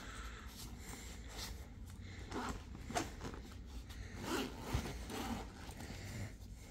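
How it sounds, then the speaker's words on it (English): A zipper on the bottom compartment of a Nomatic travel bag is pulled in several quick, scratchy bursts, close and fairly quiet, with short pauses between strokes and no talking. "We got a zip there."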